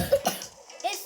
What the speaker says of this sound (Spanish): Ay chicos, que tengo mucha tos